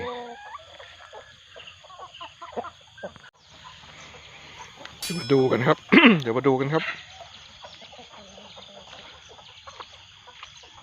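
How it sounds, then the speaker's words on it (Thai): Farmyard chickens clucking close by during a walk to check fishing lines, a short loud burst of clucks amid quieter background activity, with someone speaking briefly. "อันนี้ไก่ มันจะรู้ครับว่ามีคนมา มันก็จะวิ่งตามมาเลยครับ"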